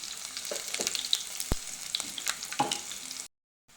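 Green chilli pieces, cumin and fenugreek sizzle in hot frying oil, a close, steady hiss with a few sharp pops and stirring scrapes, cutting off abruptly into silence near the end.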